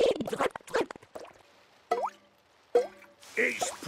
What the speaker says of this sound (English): Has the dripping stopped? No! It's dripping more.